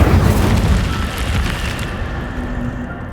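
A fire spell cast in the video game Hogwarts Legacy bursts out as a loud, rumbling whoosh of flame that opens strongly and trails off into a steady roar, with no voices over it.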